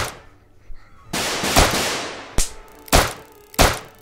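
Gunshots in the Police Response VR video game ring out as sharp, loud cracks, one with a long decaying tail followed by three more spaced shots in quick succession.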